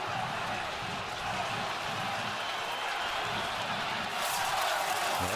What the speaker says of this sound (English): The noise of this crowd being an issue for the Argo offense.